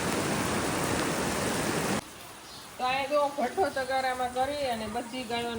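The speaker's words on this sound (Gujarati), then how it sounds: "નદીના પુલ ઉપરથી પાણી જાય છે અત્યારે" Muddy floodwater from a swollen village river pours over the river bridge in a loud, steady rush. After about two seconds the roar drops and someone talks over the quieter flow.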